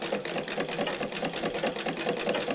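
A home sewing machine stitches a lined blouse in a fast, steady mechanical whir with a rapid needle rhythm, running continuously and close by with no talking.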